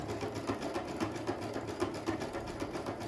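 A Brother Innov-is 100 domestic sewing machine stitching at a steady pace, its needle mechanism producing a quick, even mechanical chatter with a soft motor hum underneath, close and fairly quiet.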